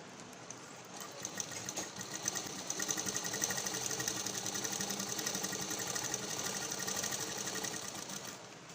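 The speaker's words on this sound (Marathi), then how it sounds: "मी आता शिलाई मारून घेते आहे." An electric sewing machine stitches the lining of a blouse, its fast mechanical needle rattle starting softly and building to a steady, close whirring chatter that runs on without talk.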